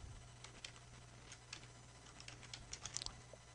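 Light, irregular clicks of typing on a computer keyboard, quiet and fairly close, scattered over a steady low hum with a brief quicker flurry near the end.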